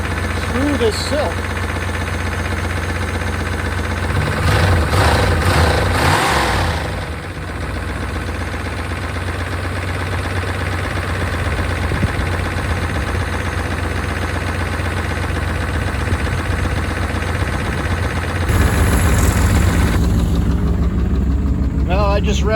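Seized-then-freed engine of a 1992 Chevrolet Caprice wagon idling steadily nearby, a rough mechanical tick running through the low rumble, with a brief burst of talk partway and the engine swelling a little louder near the end.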